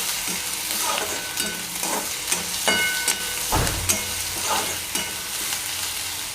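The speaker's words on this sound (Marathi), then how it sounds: "कांदा एकदम छान परतू द्यायचा" Chopped onion sautés in a pan with curry leaves for zhunka, giving a close, continuous sizzle broken by repeated stirring scrapes and clanks. No one speaks.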